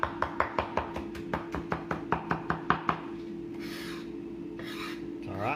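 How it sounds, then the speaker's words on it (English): A quick run of crisp knife chops through green onions on a board, close and rhythmic, then a few seconds of rubbing and scraping with a faint hum underneath. "It's all right, because we're chopping."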